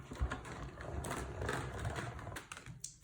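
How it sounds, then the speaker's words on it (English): A Stampin' Cut and Emboss machine presses a card front through an embossing folder, giving a steady, close, grinding mechanical rumble with faint clicks that stops abruptly near the end. "I am going to emboss it using my Stampin' Cut and Emboss machine."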